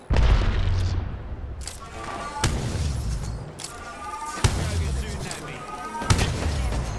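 Video game gunfire and explosions hit as loud, repeated booms and bursts over a constant roar of game noise, with someone talking throughout.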